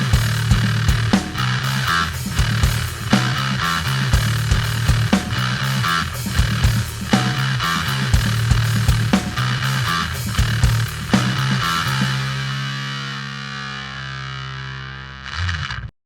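Distorted bass guitar played through a Walrus Audio Eras distortion pedal: thick, gritty riffing with rhythmic picked attacks, ending in a long ringing sustained note that fades out, no talk.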